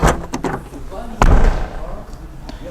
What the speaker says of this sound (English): listen to the sound of the boot door